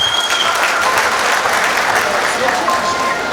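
Audience applause for Mahesh sir at a function in Kurnool, a dense, steady wash of many hands clapping together throughout, loud and close, with a few voices blending into the crowd noise.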